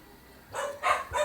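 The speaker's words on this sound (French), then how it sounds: "mes chiens qui sont en train d'aboyer et de jouer" Dogs barking and yipping while they play, in short bursts of rising energy, indoors and moderately close.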